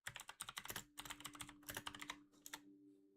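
Rapid clattering keystrokes on a computer keyboard, typed in quick irregular bursts at close range during a Fortnite Chapter Seven livestream, with a low steady electronic hum underneath and no talking.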